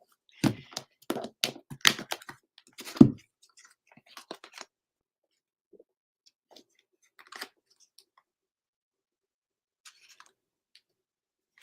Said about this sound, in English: So I'm just going to cut the pack and take 3